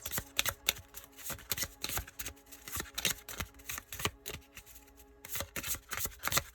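Playing cards are shuffled repeatedly, with quick riffling bursts of crisp clicks that come in rapid runs, pause briefly, then start again.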